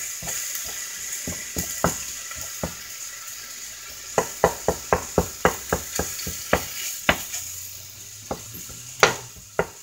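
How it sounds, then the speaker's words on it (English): About two pounds of ground beef browning over medium heat in a pan, with a steady close sizzle under a string of sharp scraping and stirring knocks from a utensil against the pan. "I'm just browning some ground beef in a pan"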